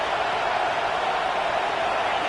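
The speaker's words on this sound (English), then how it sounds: "here comes the noise. This crowd is trying to inspire this defense to make a big red zone stop." Steady, dense stadium crowd roar in the college football video game NCAA 26, swelling as fans urge the defense during a red zone stand, loud and continuous throughout with no clear breaks.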